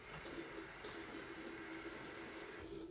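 Water runs faintly from a tap in a steady hiss, with no voices.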